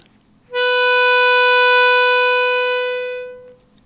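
Harmonica draw note on the three hole, one clear sustained reedy tone starting abruptly, held steadily for about three seconds, then tapering off, alone without talk.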